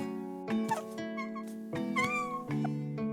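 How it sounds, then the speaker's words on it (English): A blue cat in the Hand of Hexes card video game gives a few clear, synthesized meows at steady intervals over a sustained, tonal game soundtrack. "It meows."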